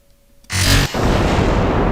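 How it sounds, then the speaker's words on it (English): A rocket explodes in Kerbal Space Program: one sudden loud burst, then a dense, roaring rumble that keeps going to the end. "Another explosion, but everything seems to be okay there."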